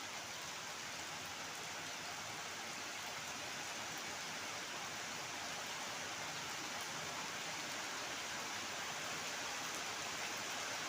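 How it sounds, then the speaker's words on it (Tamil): Heavy rain falls steadily and continuously for the whole stretch, a dense, even hiss of downpour with no voices. It goes on without a break. "அதுக்குள்ளே பெரிய மழை வந்துடுச்சு."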